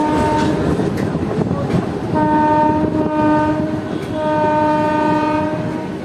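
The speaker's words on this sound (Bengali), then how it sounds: "ট্রেন ঢুকছে এখন কৃষ্ণনগর সিটি জংশন স্টেশন" A train rolls into Krishnanagar City Junction on the reopened Amghata line: a close, continuous rail rumble with clattering wheels and long, sustained horn blasts.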